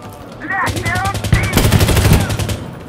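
Rapid bursts of automatic gunfire in the video game Insurgency Sandstorm crackle loud and close, overlapping with in-game voices and radio chatter in the background.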